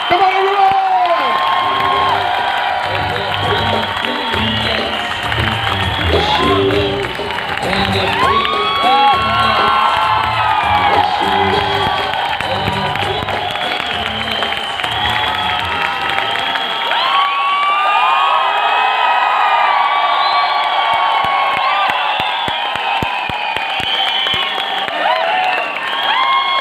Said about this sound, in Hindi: तो जोरदार ताली से दीजिए